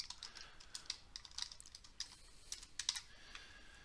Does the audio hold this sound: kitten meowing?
no